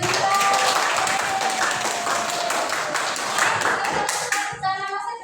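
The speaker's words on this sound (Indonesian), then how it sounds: "Oke, tepuk tangan untuk Mbak Julia." A classroom of students claps for a classmate, a dense burst of applause lasting several seconds that thins out near the end, with faint voices mixed in.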